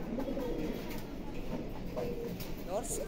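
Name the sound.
pigeons cooing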